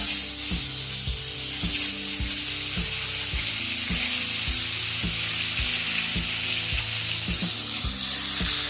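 Salt and a little turmeric frying lightly in hot oil in a pan, a steady close sizzle with regular scraping strokes of a spatula stirring throughout, no talking.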